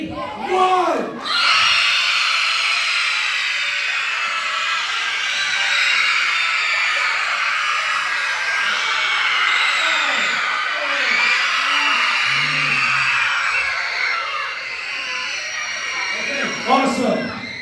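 Crowd of elementary school children screaming together at a school assembly, a loud sustained roar of high voices lasting many seconds before dropping off, with a few shouts at the end.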